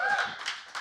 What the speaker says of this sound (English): Are you applauding my question?